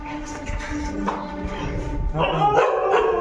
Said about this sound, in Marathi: मॅक्स आणि शिरू हे काही कुत्रे तिले कडक आहे कोणाला देऊन देत नाही